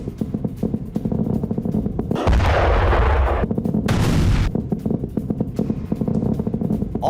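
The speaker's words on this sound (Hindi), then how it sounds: "बहरीन में कम से कम 4 धमाके सुने गए" Explosions near the US Isa airbase in Bahrain, a heavy booming rumble that swells in the middle amid scattered sharp bangs and crackling, loud and continuous without speech.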